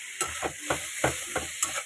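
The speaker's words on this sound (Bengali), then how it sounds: "একটুখানি মশলাটা একটু ভাজা ভাজা হোক" Spice paste frying in a pan for a vegetarian bottle gourd greens dish, a steady close sizzle with soft stirring scrapes recurring in a loose rhythm about every half second.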